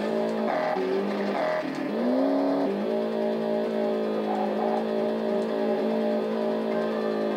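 Formula 1 race car engine in the Famicom game F-1 Race, a buzzy synthesized tone that swoops in pitch early on, then settles into a steady high drone, loud and continuous with no talk.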